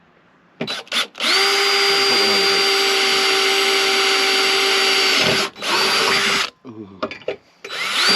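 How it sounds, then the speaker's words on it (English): Power drill reaming out a hole in aluminum while mounting a siren speaker on a hearse: a loud, steady whine running about four seconds, with brief bursts before and after and a short voiced exclamation near the start. "Ream that hole."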